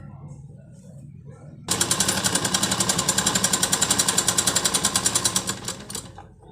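A sewing machine stitches a lined blouse, starting abruptly after a quiet moment and running in a fast steady rattle of needle strokes close by before stopping, with faint background sounds beforehand.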